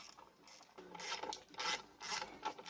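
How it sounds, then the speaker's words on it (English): A ratchet wrench tightens intake manifold bolts with quick rasping clicks in short repeated strokes, faint and close. "we're now tightening all the bolts, and then we will gonna torque them to"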